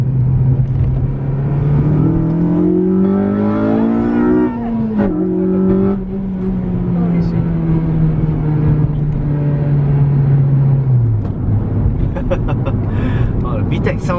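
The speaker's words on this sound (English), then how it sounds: "Oh, the VTEC sounds badass, man." A Honda Civic Type R FD2R with a VTEC engine revs hard in a rising, sweeping climb, drops back, then holds a long steady drone before easing off, loud and close from inside the car with people talking over it.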